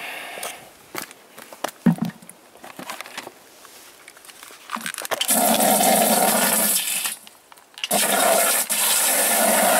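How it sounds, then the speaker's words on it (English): A household toilet flushes during a water supply problem in Fuerteventura, with a loud rushing roar of water that surges, briefly drops, then resumes after some earlier clatter and small handling noises. "this is what we have to do if we want to go to the loo and flush the loo"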